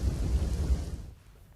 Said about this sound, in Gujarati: યાત્રાધામ દ્વારકામાં વરસાદ છે તે મહેરની બદલે કહેર વરસાવી રહ્યો છે